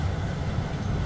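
Frankfurt airport's SkyLine transit train runs along its track with a steady, close low rumble and no talk.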